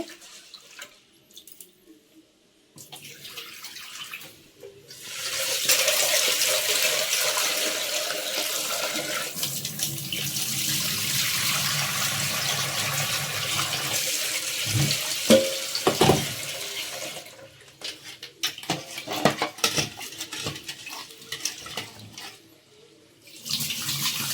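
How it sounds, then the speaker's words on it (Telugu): Water runs from a tap into a pot to rinse roasted moong dal. The steady splashing pour lasts several seconds, with quieter handling and a few sharp knocks after it stops. "ఇప్పుడైతే మనం వాటర్ వేసుకొని కడుక్కున్నాము"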